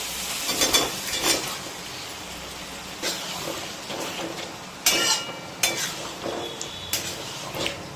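Boiled potatoes tossed into a spiced cauliflower and paneer curry frying on a high flame, with a steady sizzle and repeated spatula clanks and scrapes against the pan, close up and without voices.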